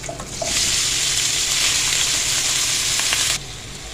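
Half a kilo of minced chicken hits a hot pan and bursts into a loud, close sizzle that holds steady for about three seconds before cutting off, with faint kitchen clatter around it and no talking.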